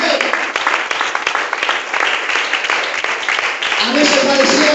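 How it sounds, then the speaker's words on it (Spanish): A Spanish-speaking church congregation bursts into loud, sustained applause during a service, dense clapping with voices mixed in and rising toward the end. "Un aplauso al Señor Jesucristo"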